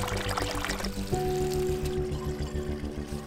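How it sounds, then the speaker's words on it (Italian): Water pours and splashes steadily through a homemade aquaponic garden system, with a continuous rushing flow close by and a low steady hum underneath. "La cosa più bella che non avevo pensato è il rumore dell'acqua!"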